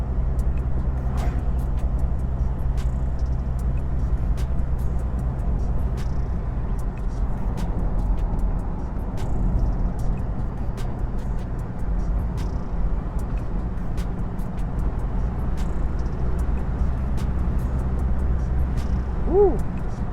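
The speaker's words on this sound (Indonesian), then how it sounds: "Enak sekali ya pakai mobil diesel, penggerak belakang, mantep lah pokoknya emang Innova ini" A Toyota Innova Reborn diesel automatic with rear-wheel drive climbs a long uphill road, its engine a steady low drone heard from inside the cabin with faint ticking and occasional light clicks.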